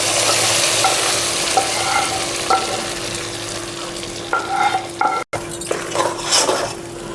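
Curry leaves sizzle in hot oil in a pan with chillies for katte pongali, a loud, continuous frying hiss broken by metallic spatula clinks and a brief cut near the end.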